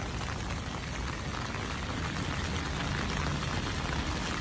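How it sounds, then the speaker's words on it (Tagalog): Heavy rain at night along the Pasig River Esplanade in Manila: a dense, loud, unbroken roar of downpour fills the whole stretch at constant intensity, with no voices heard over it. "Ayan, lakas ng ulan."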